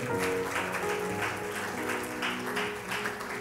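A church congregation applauds the Lord, a sustained, moderately loud patter of many hands with sung or held tones running underneath.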